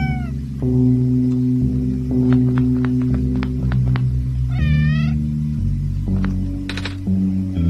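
Cats in the OneShot video game meow over a steady hum of game music, with one wavering, clearly audible meow in the middle and a few shorter high chirps around it; nobody speaks.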